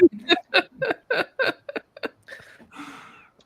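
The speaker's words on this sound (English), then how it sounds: "Wait till he gets the hiccups." A man hiccups repeatedly in a quick rhythmic series, close and fairly loud, trailing into breathy laughter.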